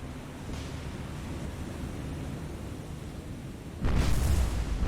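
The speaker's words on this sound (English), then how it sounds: "Another big hit, another secondary explosion." A warship explodes in the naval game War on the Sea, a sudden loud boom late in the clip following a low, steady rumble of sea and wind.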